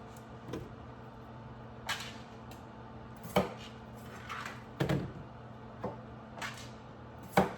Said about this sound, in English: they really just need to be cut in half